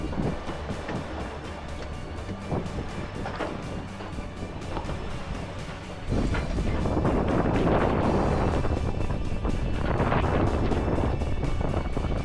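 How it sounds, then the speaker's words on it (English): A monohull sailboat under staysail moves offshore toward Dominica, with steady wind buffeting the microphone and rushing water around the hull, growing louder and fuller halfway through, no talk. "It's nice sailing with the stay sail out."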